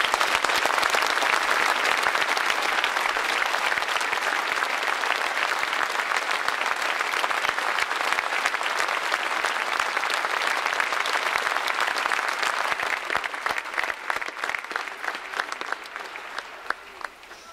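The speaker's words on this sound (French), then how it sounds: "je vous propose une fois de plus d'applaudir les 17 victimes" Sustained applause from a large crowd at a street demonstration in Mulhouse, dense and steady clapping that thins out near the end into scattered individual claps.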